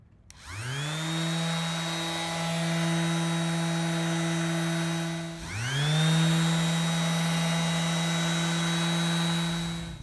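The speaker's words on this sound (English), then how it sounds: "combination with our DeWalt 3-amp sander. It's a 5-inch pad" A DeWalt 3-amp sander with a 5-inch pad, used for detailing a golf cart, spins up with a rising whine and holds a steady motor hum. It briefly cuts out mid-way, then starts again and keeps running.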